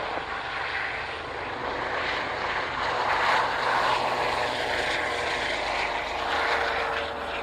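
An aircraft takes off from runway 27 at an air display, a steady loud engine and propeller drone sustained throughout with a slight swell midway, no voices over it.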